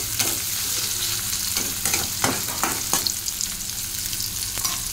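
Ginger, green chillies, dried red chilli and garlic frying in a pan for katla fish curry, an even sizzle with scattered stirring knocks and scrapes, close and steady.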